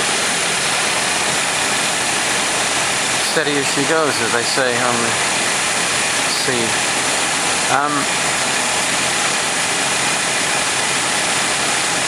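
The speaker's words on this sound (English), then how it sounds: "That engine's as steady as anything." A restored 1947 Dodge engine idles steadily as a loud, constant broadband rumble throughout, with someone talking over it for a few seconds.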